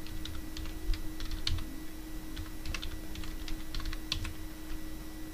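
Someone types a username and password on a computer keyboard during a Linux Mint install, a steady run of light close key clicks over a constant low electrical hum.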